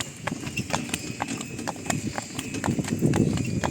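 Hooves of a Breton mare clip-clop in a steady, even rhythm on a hard road, close by, with rumbling wheels of a cart and faint talk underneath.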